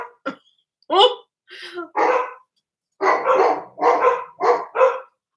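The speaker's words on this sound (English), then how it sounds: "My dogs are going crazy." Several dogs bark loudly indoors in a house, a fast burst of close, sharp barks with short pauses between them, some growly, with no talk over them.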